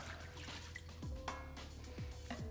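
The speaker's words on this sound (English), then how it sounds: "What we're gonna do is take our water, add it to the pot," Water poured into a cooking pot while making polenta porridge for sourdough bread, heard as close, light splashing and dripping with a few distinct falling drops over a steady low background hum.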